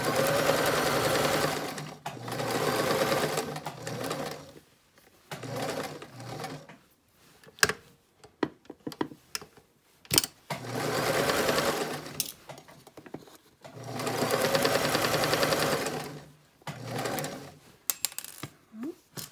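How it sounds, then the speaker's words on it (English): A sewing machine stitches a fitted fabric face mask seam in several loud, close bursts of rapid whirring, separated by pauses filled with small clicks and handling noises. "I'm gonna sew that right across with a 3/8 inch seam allowance."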